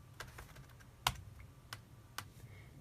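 Keystrokes on a computer keyboard while entering commands in a terminal, heard as a few sparse, separate clicks with one sharper press, close and clear, with no talking.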